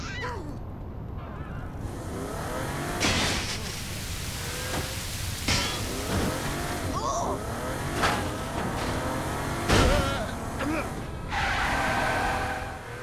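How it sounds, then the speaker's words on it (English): A stolen car in the video game Saints Row IV drives off with a loud, continuous engine roar and revving, close and steady, with brief bursts of louder noise over the top. "Bad news. I'm taking your car."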